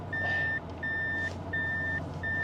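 Inside a Toyota Century V12, a reversing chime beeps in the cabin in four evenly spaced tones, clear and close over a low engine hum.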